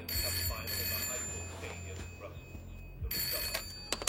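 A telephone rings in a French audio drama while anxious parents wait beside it, a steady electronic ringing with background murmur under it and a brief pause before it resumes.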